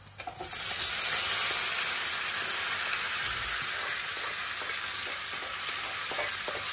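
Chinese potato (koorka) mixture tipped into a very hot pan on low flame, bursting into a loud, continuous sizzle that settles into steady, close frying hiss with faint stirring scrapes.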